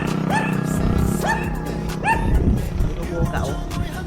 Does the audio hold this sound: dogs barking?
yes